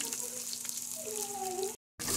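Crushed ginger and garlic drop into a hot frying pan, setting off a loud continuous sizzle and hiss with a faint tonal hum beneath, broken by a brief gap near the end.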